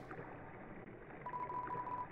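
A phone dialing in the video game Undertale, heard as a short run of faint beeping tones over a low, steady game background.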